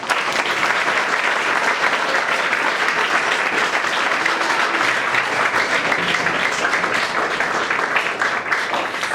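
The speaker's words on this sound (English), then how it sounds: "So just a clap for him." Audience applause for a lecturer at a high school event, a steady dense wash of many hands clapping that holds evenly loud from start to finish with no pauses.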